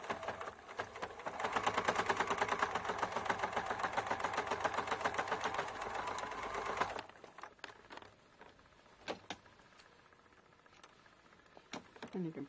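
A sturdy sewing machine stitches through many layers of a cathedral window quilt, running in a fast, even whir for several seconds, then stopping; afterward only faint clicks and handling noises remain.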